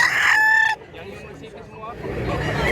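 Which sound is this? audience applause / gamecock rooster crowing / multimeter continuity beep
gamecock rooster crowing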